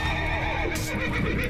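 A horse whinnies loudly and close up in the middle of a video game battle, with a shrill neigh carried over hoof clatter.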